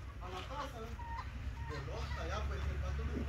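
A duck being chased outdoors gives short, raspy calls that come and go faintly beneath people talking close by.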